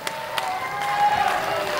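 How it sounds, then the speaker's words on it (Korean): Concert audience applause at an outdoor festival performance rolls on as steady, fairly loud clapping with some cheering, a few sharper claps standing out near the start. "우리 박수 한번 더 크게 줍시다"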